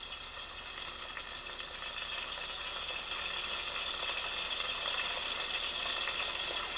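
Food frying in a pan, a steady broad sizzle that holds close and loud throughout and grows slightly more intense toward the end, with no talking.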